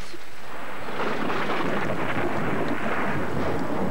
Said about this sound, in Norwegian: Tordenvær kan høres farlig ut, men er det egentlig ikke.